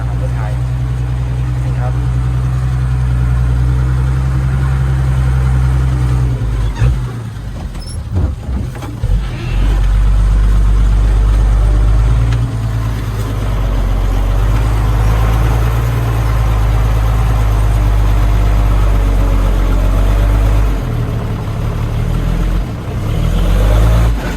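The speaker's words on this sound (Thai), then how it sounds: "เอา รถไถมาครับเพิ่งเอามา" A tractor engine idles with a deep, steady rumble throughout. It dips briefly once and then settles again, with some background noise around it.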